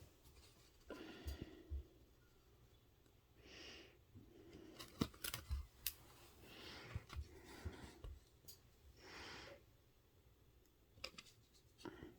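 Scissors snip embroidery thread during cross-stitch, a few faint, sharp clicks spread through a quiet room with soft rustling and no talk.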